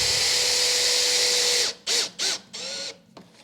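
Power drill driving small stainless steel screws into wood, a steady high whine for well over a second, then several short separate bursts as each screw seats, close and loud with no talk.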